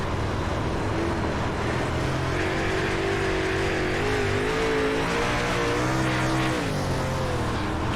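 Dirt late model race car engine in the iRacing sim at Lincoln Speedway, a loud steady roar with a wavering pitch as it rolls around the track through the whole stretch, no talk.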